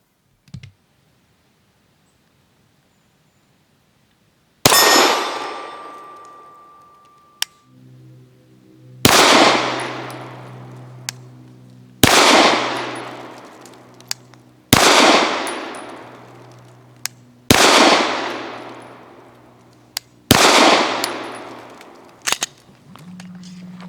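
Six sharp pistol shots from a Canik TP9 fitted with TruGlo night sights ring out at an outdoor range, spaced a few seconds apart, each loud report trailing into a decaying echo.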